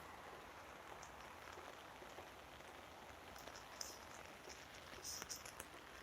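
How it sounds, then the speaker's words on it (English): Steady rain falls on a rainy day, a continuous soft hiss of drops on surfaces with a few louder close splashes near the end, heard alone without talking. "on this rainy day here where I live"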